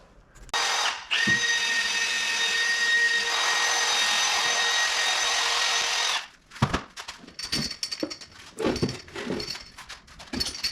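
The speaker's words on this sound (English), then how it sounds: "I'm going to give it just a little bit of a clean up with the wire brush" Wire brush, seemingly power-driven, scrubbing caked mud off the gearbox casing of a 1965 VW Beetle 1200, a loud steady whirring rasp for about five seconds, then irregular scraping and clanking as the work continues.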